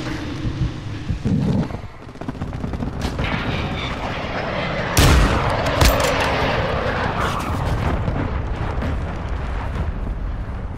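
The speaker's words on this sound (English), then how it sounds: "Friendly cruise missile" A cruise missile strike explodes in a Call of Duty match: a heavy, close boom about halfway through bursts over steady crackling gunfire and rumbling battle noise.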